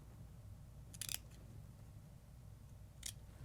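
Scissors snip twice while finishing a cross stitch Christmas ornament, trimming ribbon shorter: a short cluster of crisp cuts near the start and a single quick snip later, close and quiet over a faint hum.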